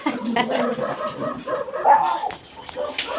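Several dogs, including a shih tzu and a poodle, yip and whimper in a busy household, short overlapping barks and whines at close range mixed with voices talking.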